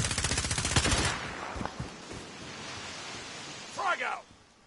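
Rapid machine-gun fire rattles loudly in Call of Duty: Warzone, a burst of fast, evenly spaced shots lasting about a second, followed by a few scattered single shots and a brief rushing effect, with voices speaking.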